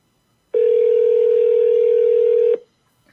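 A steady telephone dial tone sounds for about two seconds while a call is placed, a single clean unbroken hum that starts and stops abruptly, close and loud.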